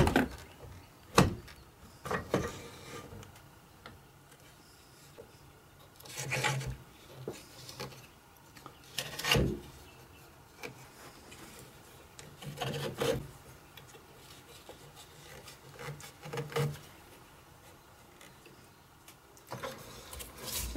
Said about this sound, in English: I'm going to be hollowing up the inside pretty much all with the Carbon Sun 5/8 bowl gouge